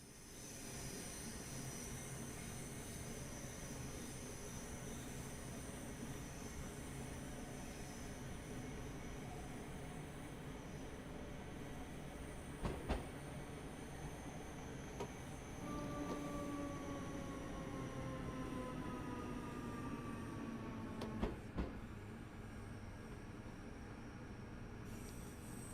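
Electric commuter train running on the Cathcart Circle in Train Sim World 2, a steady low rumble and hum with tonal motor whine and occasional sharp clanks, continuous throughout.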